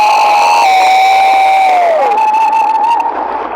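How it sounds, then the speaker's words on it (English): A convention audience at a cosplay contest cheers and whoops loudly, one piercing sustained scream riding over a dense roar of voices and some clapping throughout. "Round of applause for Ari Wolf!"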